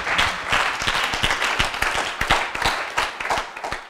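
An audience at a talk on storytelling claps steadily, a dense patter of individual hand claps heard close and fairly loud, gradually thinning toward the end.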